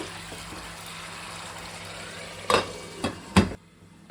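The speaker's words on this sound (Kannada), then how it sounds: "ಇವಾಗ 2 ನಿಮಿಷದಿಂದ ಹುಣಸೆ ರಸ ಚೆನ್ನಾಗಿ ಎಣ್ಣೆಲಿ ಫ್ರೈ ಆಗಿದೆ" Tamarind juice frying in oil for a tomato rasam, a steady low sizzle that runs throughout, broken near the end by a few sharp scraping stirs of a spoon in the pan.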